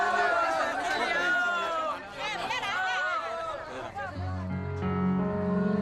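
A crowd of employees waits for payment, with excited overlapping chatter and raised voices forming a busy hubbub. A lower tonal hum enters toward the end.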